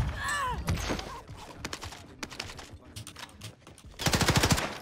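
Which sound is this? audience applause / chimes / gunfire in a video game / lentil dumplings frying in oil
gunfire in a video game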